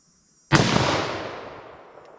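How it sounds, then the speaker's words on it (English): A .44 Magnum single-action revolver fires one loud shot at a steel target 75 yards away, a sudden sharp blast followed by a long, slowly fading outdoor echo. "let's see if I can make any shots, single action, 75 yards on the steel"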